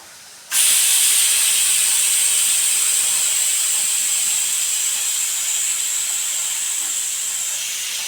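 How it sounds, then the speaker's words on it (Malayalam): A pressure cooker of beef curry, after six whistles, releases steam in a sudden loud hiss that then holds as a steady, slowly fading rush, very close and alone. "6 വിസിലായതിനു ശേഷം വിസിലെല്ലാം പോയതിനു ശേഷം കുക്കർ തുറന്ന് നോക്കാം."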